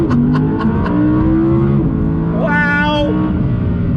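An Audi R8 launching hard from a standstill, its engine note climbing steadily in pitch through the revs, then a quick shift and a sharp rise again, loud and close with a brief high whine over the top.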